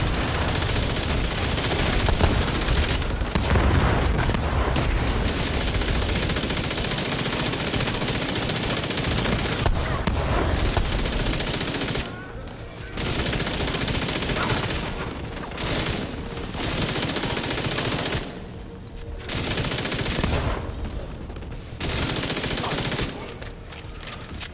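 Sustained automatic gunfire in the shooter game The Division 2, long loud bursts of rapid shots with brief pauses between volleys, a voice occasionally talking over the shooting.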